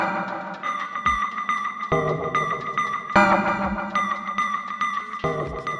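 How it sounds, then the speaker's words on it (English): A sampled melodic sound is played from an MPC keygroup program through an airy reverb: repeated bright, harmonically rich notes and chords with a washy, shimmering tail and occasional low thumps, alone with no talking. "This is the air reverb."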